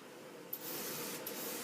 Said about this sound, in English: So let's go ahead and spray in there.